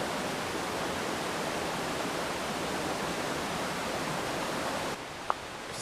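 Rushing water from Deep Creek below a trail in the Smoky Mountains gives a constant broadband roar that stays steady, then drops slightly near the end, with a brief tap.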